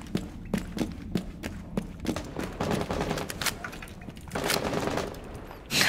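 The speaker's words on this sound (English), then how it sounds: "Charles, for the love of God, stop fucking shooting me." Rapid bursts of automatic gunfire in the Rainbow Six Siege video game, close and loud, with sharp repeated shots crackling in quick rhythm and a denser, sustained barrage toward the end, no talking.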